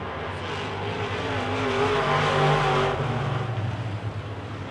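Wissota Midwest Modified race cars roar around a dirt oval at a July 4th feature event, their engine drone swelling loud as they pass, then easing off, with no voices over it.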